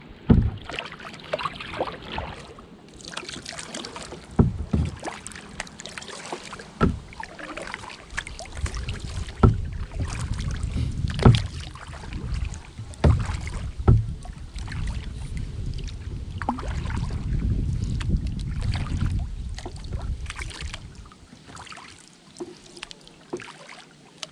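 A kayak moves across a spring lake on its maiden voyage, with repeated paddle strokes splashing and dripping against steady wind rumble on the microphone throughout, close and fairly loud.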